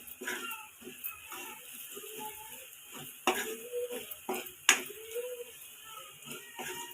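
A spoon stirs garam masala through egg fry in a pan on the stove, with soft scraping strokes, light sizzling and a few sharp clinks of metal against the pan, close and fairly quiet.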